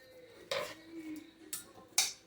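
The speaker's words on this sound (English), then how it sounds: "because I'm chopping this up too, because I want to get those oils going" A knife chops rosemary stems on a board: three sharp, close impacts spaced irregularly, each a short clack over quiet background.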